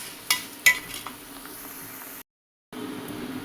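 Rice grains frying in oil in a pot give a soft steady sizzle, with two sharp clanks of a utensil near the start and a brief silent gap partway through.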